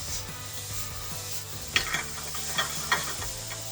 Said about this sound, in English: Toasting in the pan with all the spices, starting to get it to caramelize.